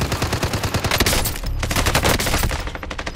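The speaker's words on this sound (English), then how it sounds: "Receiving hostile fire." Heavy automatic gunfire in the video game Call of Duty: Modern Warfare, dense overlapping rapid shots and booming impacts filling the whole moment at close, loud range.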